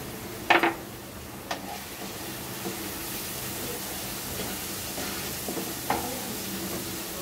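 Spices with cumin powder frying in oil for a potato, pointed gourd, papaya and teasel gourd vegetable curry, a steady hiss of sizzling with a few sharp utensil scrapes near the start and later.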